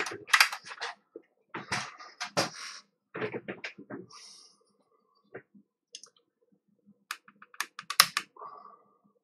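Keys on an Atari 800 computer keyboard clatter in irregular bursts of typing, sharp close clicks grouped in quick runs separated by short pauses, with no voices.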